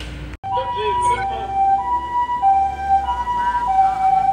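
An ambulance siren wails loud and close in a steady rising-and-falling tone, right after a short sharp break, with traffic rumble underneath and a voice briefly over it.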